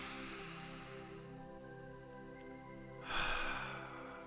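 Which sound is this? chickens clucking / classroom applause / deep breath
deep breath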